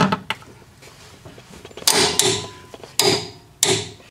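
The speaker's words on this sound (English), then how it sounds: "Using the torque wrench, I'm going to torque it to 89 foot-pounds." Torque wrench tightening a rear shock absorber bolt on a 2010 Nissan Rogue, a few sharp metallic clicks and ratcheting creaks in separate bursts, close and fairly loud, with quiet handling noises between them and no talk.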